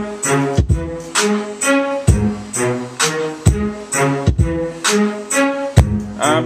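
Excerpt of a finished hip-hop beat: hard drum hits and a repeating bass and melodic loop, loud and steady throughout with no vocals.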